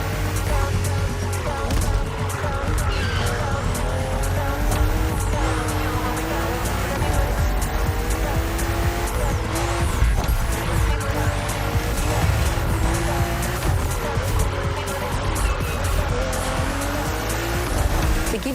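A BMW M4 CSL tears around a track in The Crew Motorfest racing game, its engine roaring loud and continuous with repeated tire squeals and skids as it takes corners at speed.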